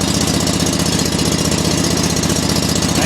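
A John Deere 345 lawn tractor engine runs steadily after a cold start in freezing weather, a close, loud, evenly pulsing idle that stays uniform throughout with no talking.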